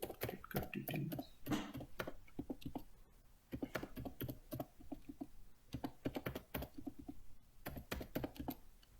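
Credit card details typed on a computer keyboard, a long run of quick, uneven key taps with short pauses between bursts, close and fairly quiet, no voices.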